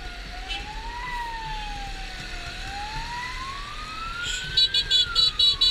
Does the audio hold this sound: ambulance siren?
yes